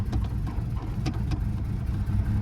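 A car engine runs with two gallons of soap poured inside, giving a loud, steady, rumbling drone with slight roughness throughout and no voices.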